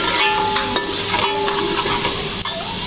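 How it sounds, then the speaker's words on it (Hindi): Onions sizzle steadily in a hot pan while being stirred for a chicken chana dal gosht, with a few scraping stirs over a constant, close frying hiss. "चलिए अभी थोड़ी प्याज भुन हो जाए फिर आपको दिखाते हैं।"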